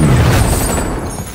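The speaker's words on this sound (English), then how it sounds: "Throwing frag grenade!" Frag grenade detonating in the Call of Duty Warzone video game, a loud low boom that rolls off into a rumbling decay over about a second and a half.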